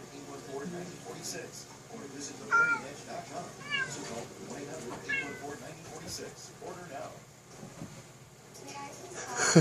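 A smart speaker plays recorded cat meows in a room, several short meows rising over a steady background hum and some voice-like sounds.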